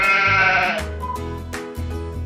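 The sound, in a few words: sheep bleating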